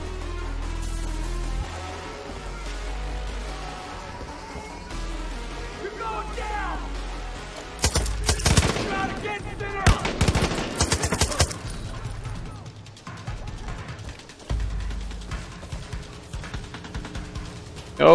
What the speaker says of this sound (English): who the fuck is shooting at me, man?